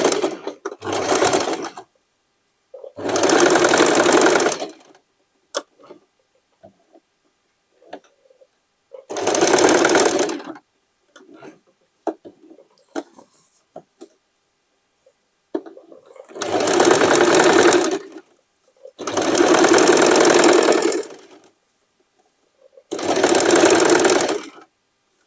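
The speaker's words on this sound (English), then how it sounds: "here I have to make the stitching here" A sewing machine stitches a denim dress in six loud bursts of rapid mechanical clatter, each a few seconds long. Quiet pauses with faint handling noises separate the bursts.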